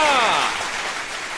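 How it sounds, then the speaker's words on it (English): An audience gives a big round of applause at a live talk, a burst of clapping that starts loud with a shout mixed in, then fades to a softer patter. "Big round of applause."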